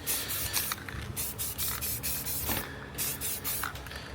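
White paint is sprayed onto the brake calipers of a Chrysler 300 Redeye from an aerosol can, in short repeated hissing bursts with brief gaps and light rubbing between passes.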